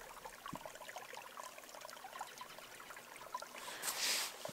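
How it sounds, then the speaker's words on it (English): Creek water trickles faintly over a rocky creek bed on a mountain hike, a quiet, steady babble with a brief louder splash or rush near the end, heard alone outdoors. "You can probably hear the water."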